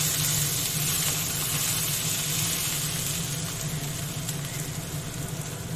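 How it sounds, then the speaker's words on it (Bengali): Mixed vegetables for a pure veg panchmishali sobji chhokka frying in a pan, giving a soft, even, continuous sizzle at low volume, with no voice and no clear stirring strokes. "ঢাকা দিয়ে দিয়ে কিছুক্ষণ নেড়ে নেড়ে এটা ভেজে নিতে হবে।"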